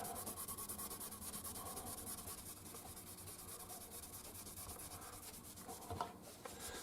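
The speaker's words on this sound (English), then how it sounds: "See, I'm doing it a good scrubbing all the way up and down here." Close, steady scrubbing and rubbing strokes over the wood of a 1977 Ibanez MC300 guitar, a soft continuous rasp moving up and down the body with a brief louder scrape near the end; no speech.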